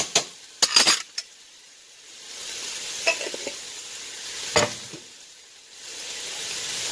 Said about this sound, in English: Back in this pan, I'm gonna put like just some garlic.